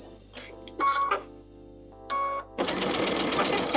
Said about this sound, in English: I've changed to a straight stitch and I'm just going to stitch over, in and out, across.